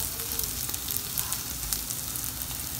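Peas dropped into browned masala in hot oil sizzle with a steady crackling hiss, close and continuous, with small pops and stirring sounds throughout.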